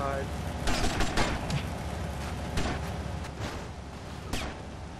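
Sporadic gunshots crack out at a player in GTA Liberty City, a few separate bursts over steady in-game street noise at moderate loudness.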